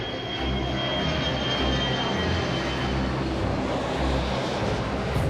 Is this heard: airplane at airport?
yes